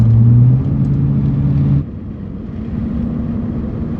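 Chevy truck engine on a test drive, starting with a loud low drone that drops at about two seconds into a steadier rumble of road and engine noise.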